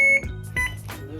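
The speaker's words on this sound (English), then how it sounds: "You have to learn to deal with the beeping." A kitchen appliance gives a few short electronic beeps, clear tones broken up by clattering and handling noises, fairly close and moderately quiet.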